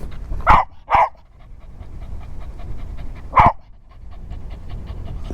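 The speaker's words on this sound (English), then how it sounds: "It's a really piercing bark." A dog gives three sharp, piercing barks, two in quick succession and one after a pause, with steady panting between them, heard close and alone.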